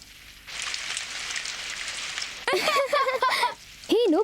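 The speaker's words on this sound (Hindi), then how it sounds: "बारिश हो रही है, जरा कपड़े अंदर लाने में मेरी मदद करना।" Steady rain hisses for about two seconds in an animated cartoon scene at home, then gives way to voices speaking over fading background noise.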